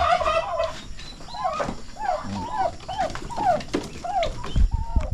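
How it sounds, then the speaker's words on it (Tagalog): Young turkey poults on a small Filipino mini farm, a growing brood that can already fly, giving a steady run of repeated chirping gobble calls, close and fairly loud, with some rustling and thumps near the end and no talking. "Ito yung sisiw natin ng mga pabo."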